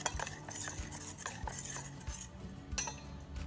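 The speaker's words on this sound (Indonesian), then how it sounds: "Terus diaduk." A spoon stirs a cornstarch and water mixture in a bowl, scraping and clinking in quick repeated strokes close up, with no talking.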